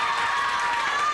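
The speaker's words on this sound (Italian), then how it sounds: "Poi un applauso per il piccolo." Steady, even applause from an audience at a community celebration, honoring a small child. The clapping is continuous and dense, a close wash of sound with no single claps standing out.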